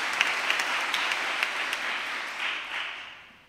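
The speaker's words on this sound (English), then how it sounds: "but we can still clap" Audience applause at a 2023 graduation prize ceremony, a steady wash of many hands clapping that holds evenly for a few seconds, then begins to fade at the end.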